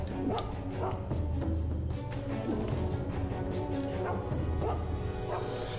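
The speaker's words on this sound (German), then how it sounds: "Also ist ja der Hund, der greift dich nicht an, aber der bellt halt." In the video game Mark of the Ninja, a dog barks several times in sharp, moderately loud yips spaced over a few seconds against a low ambient game hum.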